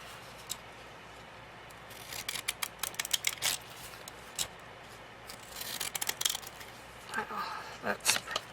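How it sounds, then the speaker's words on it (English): Small pinking shears snipping paper napkins or magazine pages, irregular clusters of crisp close cuts, faint and intermittent, with speech in between. "punch or scissors that does the little zigzag pink, the little tiny pinking shears"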